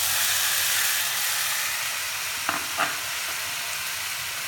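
Pieces of fenugreek, potato and tomato frying in a pan for curry, a steady close sizzle and hiss throughout, with a couple of brief clinks partway through.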